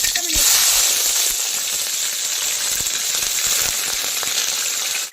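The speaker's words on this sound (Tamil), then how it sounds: "பெருங்காயம் போட்டுக்குவோம் பிறண்ட வதக்கிறதுக்கு பெருங்காயம் நல்லா பொரிஞ்சிடும்" Asafoetida spluttering in hot oil before frying pirandai, a steady close hiss and sizzle with scattered small pops throughout.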